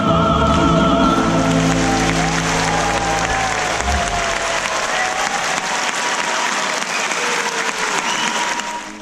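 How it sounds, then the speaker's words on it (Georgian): A Japanese audience applauds a Georgian folk choir, loud sustained clapping from a large crowd that fills the space throughout, with fading tonal music or singing underneath at the start. "იაპონელი მაყურებელი დღემდე მხუხარე აპლოდისმენტებით ხვდება ქართული გუნდების გამოსვლებს სცენაზე"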